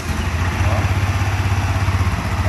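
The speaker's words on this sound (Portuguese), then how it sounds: "Eu vou dar uma ligada na moto, né?" A new Honda 250cc motorcycle engine idles close by with a steady, low, even pulsing thrum, while a voice speaks faintly over it.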